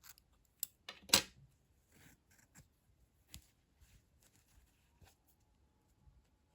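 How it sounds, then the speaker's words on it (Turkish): Scissors snip crochet yarn on a baby shoe, one crisp close cut among a few faint handling taps and rustles in a quiet room. "İpliği kesiyorum."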